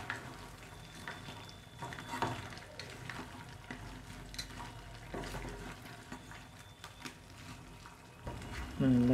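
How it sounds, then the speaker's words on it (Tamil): A Chettinad-style crab masala being stirred in a pan, with steady scraping and soft frying sizzle running throughout, fairly quiet, plus a brief louder clatter near the end. "நல்லா கீழே இருந்து மேல் நோக்கி கிண்டி இதுக்கு முடிச்சிட்டோம்"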